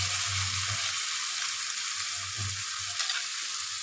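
Chili powder soaked in hot water is stirred into a masala frying in a pan for an egg coconut malai curry, giving a loud, steady sizzle with a few soft scraping strokes of the spoon.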